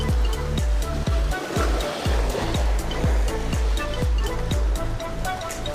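Ocean surf breaks along the shore at a fishing spot, a constant loud wash with rhythmic low pulses as waves roll in one after another, heard alone.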